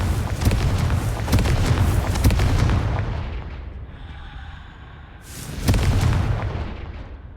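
Booming spell blasts in the Hogwarts Legacy video game, with several heavy explosive bursts in quick succession, a quieter pause, then another loud blast, with no talk over them.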